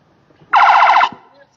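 A single loud tonal wail from an ambulance siren passing in the street lasts about half a second, bright and close, with no other sound around it.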